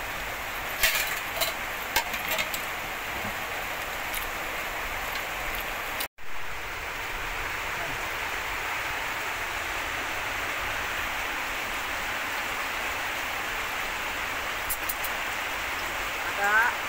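Steady hiss of rain falling nearby, constant throughout, with a brief dropout partway and a few faint knocks.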